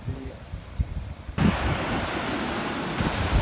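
Surf washing onto a beach in Uruguay, a steady broadband rush that swells suddenly partway through and then holds loud and close, with wind buffeting the microphone.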